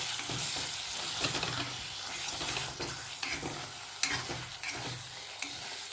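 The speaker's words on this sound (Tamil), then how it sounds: "2 நிமிஷத்துக்கு ஒரு வாட்டி இந்த மாதிரி எடுத்து கிளறி விட்டுக்கலாம்." Flaxseed and urad dal kali cooks in a pan with a soft, continuous sizzle while a spoon stirs and scrapes through the thick mixture in uneven strokes, fairly quiet and close, with no talking.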